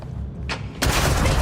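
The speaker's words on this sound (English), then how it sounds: "Grenade." A sudden loud grenade blast in the sci-fi game Starfield erupts after a quieter moment with a brief thump, then a dense roaring burst that holds through the end.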